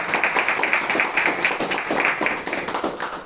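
An audience at a book presentation in Zaragoza claps for the author, a moderate, fairly even patter of many hands with small swells, heard at a distance and alone without talk.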